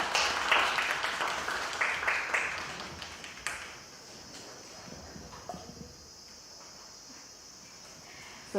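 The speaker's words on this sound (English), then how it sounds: "Can we please give them a big round of applause?" Applause from an audience at a women's entrepreneurship day celebration, a burst of clapping in the first few seconds that quickly thins to scattered claps and fades to a quiet room.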